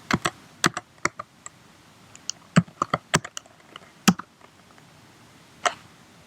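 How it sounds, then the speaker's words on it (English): Rapid, irregular keystrokes on a computer keyboard while a Jupyter Notebook password is entered during a headless Raspberry Pi setup, with sharp, close clicks and short pauses and no talking. "So to do that, we'll just type in Jupyter Notebook"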